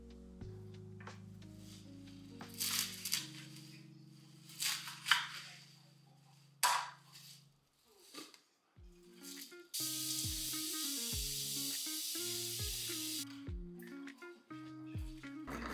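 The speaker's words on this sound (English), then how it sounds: "Then it's time to use my salad spinner." A salad spinner whirs with a steady, loud rushing noise for a few seconds as it spins chopped, washed broccoli rabe, set between stretches of background music.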